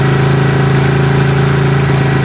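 A motorcycle engine idles steadily after its throttle speed adjustment, making a loud, close, continuous hum with an even pulsing beat and no talk.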